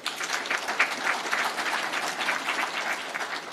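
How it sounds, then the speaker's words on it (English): Audience applause at a judiciary report unveiling, a steady patter of many hands clapping at moderate volume throughout, with no voices over it. "And that, I think, deserves a clap."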